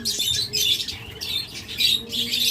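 Pet double factor budgerigars chirp and squawk in short bursts close by, several calls overlapping in quick succession with no one talking.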